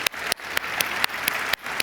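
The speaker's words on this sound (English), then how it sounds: "can we have a round of applause for the Slush volunteers" Audience at the Slush tech conference applauding the event volunteers: dense, steady clapping from a large crowd filling the space, with a few sharper claps standing out, no talk over it.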